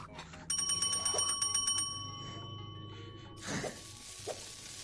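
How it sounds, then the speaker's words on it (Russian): A service bell in the VR cooking game Diner Duo rings in a quick run of bright metallic dings, over a low kitchen sizzle, followed by softer clatter. "веселее всего, конечно, это в колокольчик звонить. Дзынь-дзынь-дзынь, когда сделал бургер"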